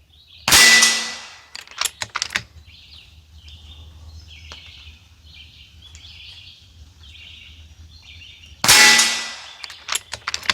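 Rifle shots at a target comparing an airgun with a .22 LR: two sharp, loud reports several seconds apart, each followed by a brief ringing clang, with faint birdsong and low outdoor hum between.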